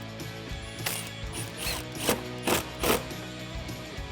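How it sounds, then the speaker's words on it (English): Ratcheting clicks from tightening an intake tube clamp onto the air box of a 2015-2017 Ford Mustang EcoBoost, several short bursts close up with mechanical clicking between, no talking. "We'll connect our intake tube onto the air box. We'll tighten it down."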